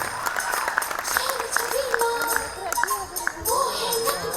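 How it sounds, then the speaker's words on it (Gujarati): An audience claps for a children's dance at a school annual function, the applause a steady patter blended with tuneful music and some voices throughout. "જબરદસ્ત તાળીઓ થઈ જાય આ કાનુડાઓ માટે"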